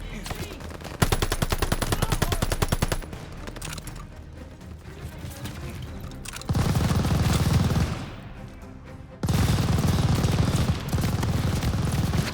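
Machine gun fire in the Call of Duty Vanguard game, Operation Tonga: rapid bursts of automatic gunfire with heavy low booms, loud and sustained with brief pauses, shouted voices underneath.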